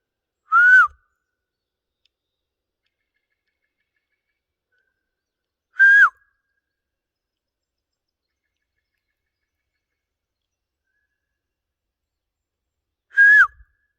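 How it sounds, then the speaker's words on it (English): Three short, clear whistles in the woods, spaced several seconds apart, each a quick rising-then-falling note, ringing out alone against complete silence. "I'm but hearing like two different whistles now coming from the east"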